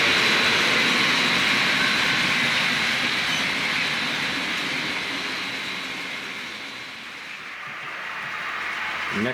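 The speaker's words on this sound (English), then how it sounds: "It's freight train." HO scale model freight train pulled by four SD40 diesel units on a Rock Island layout, a steady continuous rolling rumble with faint clicking wheels that eases slightly then builds again, heard alone.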